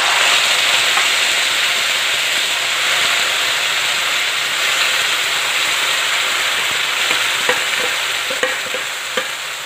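Ground masala paste sizzles loudly in hot oil with mustard seeds, cumin and asafoetida for shev bhaji, a steady close frying hiss with faint stirring clicks and a few sharp pops near the end.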